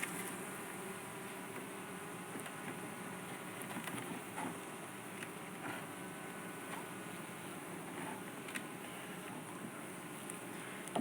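A continuous, faint buzzing drone of many honeybees swarming around a hive, mixed with light wind noise outdoors.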